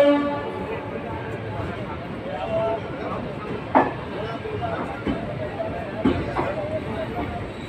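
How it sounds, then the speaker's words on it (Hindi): The Bundelkhand Express rolls out of Prayagraj station at night, with a steady low rumble of wheels and carriages, scattered clanks and a brief horn, heard from inside a general coach under a background of passenger chatter. "तो अब बस यहाँ से ट्रेन रवाना होने वाली है प्रयागराज से"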